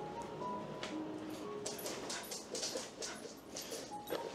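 A young service-dog puppy in training whimpers with thin, high whines and small yips, close and fairly soft over light background noise, with no talking.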